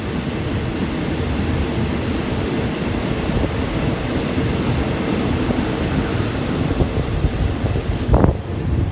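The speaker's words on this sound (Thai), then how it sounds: "ตอนนี้นะครับขบวน 254 นะครับเคลื่อนตัวออกจาก สถานีต้นสำโรงลนะครับ" Train 254 pulls out of Ton Samrong station in Thailand, a continuous low rumble of rolling wheels on rail heard from on board, with heavy wind buffeting and a brief sharper clank near the end.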